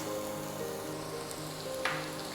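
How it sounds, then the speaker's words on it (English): Chopped red onions sizzling in hot oil in a pan for a South Indian egg bonda snack, a steady, soft crackling fry heard close up with a faint stir. "Our oil is hot enough, so let's add in our chopped onions"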